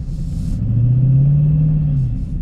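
A Dodge Charger Scatpack engine runs in sports mode on a freezing zero-degree day, a steady low rumble that swells into a deep sustained drone mid-clip before easing off, close and loud with no talk.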